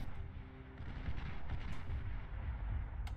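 Shell Shocker artillery pieces in Beyond All Reason keep up a dense, rumbling barrage of distant booms, continuous low thuds blending into a steady roar with faint battle noise on top.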